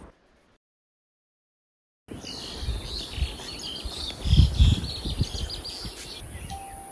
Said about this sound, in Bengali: বারান্দায় বেরিয়ে দেখি সামনের জঙ্গলে নানান পাখির কলতান।